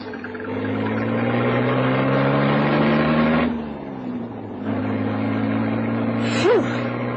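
Car engine running steadily near at hand, a continuous low hum that dips briefly midway and then resumes, with no talk over it.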